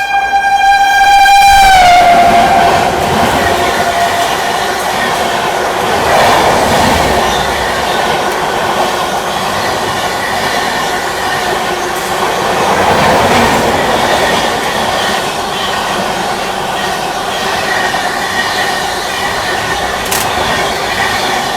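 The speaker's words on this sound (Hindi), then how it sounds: "चलिए पीछे से आती हुई 12274 न्यू दिल्ली हावड़ा दुरंतो एक्सप्रेस।" The New Delhi–Howrah Duronto Express 12274 rushes past a moving train in India, opening with a loud horn blast and then a sustained, close roar of rolling wheels and rattling coaches.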